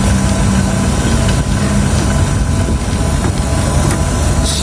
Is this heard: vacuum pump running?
yes